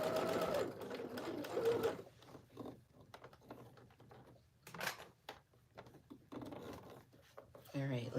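A sewing machine stitches fabric for a DIY trench-style jacket in a short, loud burst of rapid mechanical whirring. Quieter handling noises and a voice talking follow.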